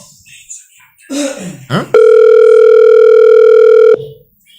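A phone call sounds its tone as one loud, steady electronic beep lasting about two seconds, preceded by brief murmuring voice sounds.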